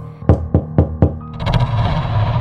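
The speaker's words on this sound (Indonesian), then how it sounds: "terdengar suara pintu toilet diketuk" Four sharp knocks on a toilet door in an even rhythm, echoing, followed by a swelling rumble of reverberant noise.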